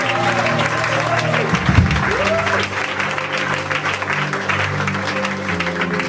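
A church congregation applauds for Jesus with sustained, steady clapping that fills the room throughout, while a voice speaks over it near the beginning.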